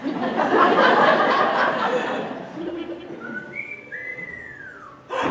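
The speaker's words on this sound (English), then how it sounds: "Dad composed a special whistle to let me know when I can get up" A father's special wake-up whistle rings out at first as a bright melodic run, partly buried under louder noise, then as a few clear rising whistled notes, with soft chuckling along the way.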